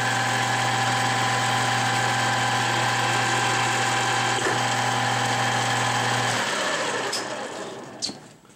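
A 13x40 metal lathe runs steadily after its drive is engaged, a loud continuous mechanical whine and hum with strong tonal bands, holding for about six seconds before the motor spins down and fades, with a couple of clicks near the end.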